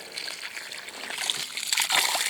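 Water poured from above splashes and trickles steadily onto freshly planted paulownia cuttings in soil, a continuous close wet hiss that swells slightly near the end.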